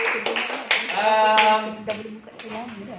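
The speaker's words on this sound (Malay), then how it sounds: "tepukan untuk kumpulan Zuhrah" Classroom applause for a student group: a few scattered, close hand claps in uneven rhythm, broken up by a teacher's speech.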